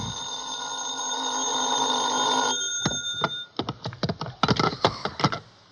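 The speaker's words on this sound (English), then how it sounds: "I was still in bed when the phone rang." An old-fashioned telephone bell rings in a radio drama, a sustained electric ring followed by a series of sharp, rapid clicking bursts, loud and close with no talk.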